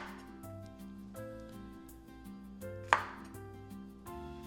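A knife cuts through a pineapple with a single sharp chop partway through, set against quiet background music.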